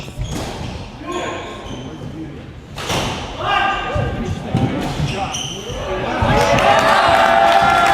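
Spectators cheer and roar at a squash doubles match, swelling into loud sustained applause after a hard-fought rally, with ball thuds and court noise beforehand.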